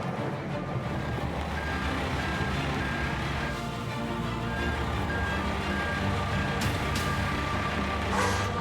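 A road-train truck backing four trailers onto a connecting plate in the Australian outback, its diesel engine rumbling steadily with repeated reversing beeps and a sharp air-brake hiss near the end.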